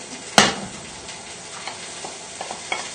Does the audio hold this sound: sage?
yes